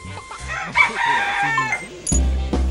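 A red rooster crows at close range, its strained calls mixed with clucks and rustling, then a louder burst and a low thump near the end, while someone talks nearby.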